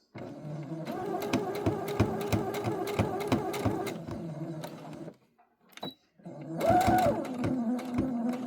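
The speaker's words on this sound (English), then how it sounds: "And then I'm going to sew it across right there." A sewing machine stitches fabric for a monkey diaper cover in quick rapid bursts, stopping briefly near the middle before running again, close and clear with no speech.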